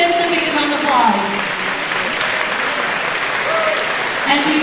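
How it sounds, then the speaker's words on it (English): Audience applause fills the room at a European Day dinner in Taipei, a steady wash of clapping that holds for the whole stretch at even loudness, with a few voices faintly audible beneath it. "Please come on the stage and give him the big round of applause."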